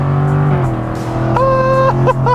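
Close, loud engine of a 2020 Jaguar F-Type R Coupe in dynamic mode, revving hard and pulling through the gears, with rising pitch sweeps broken by sharp shift changes and a steady low drone throughout.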